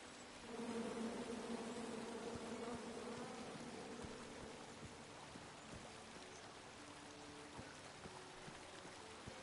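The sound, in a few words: buzzing bees in the video game King's Quest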